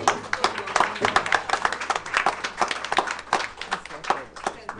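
Audience applause at a school board of education meeting honoring a green school, dense steady clapping from many hands throughout, fairly loud and close, with no talking over it.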